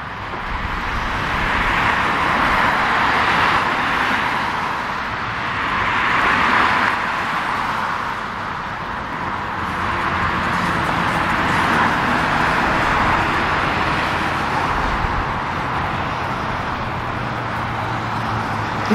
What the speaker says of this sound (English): you should be hearing car sounds on your right side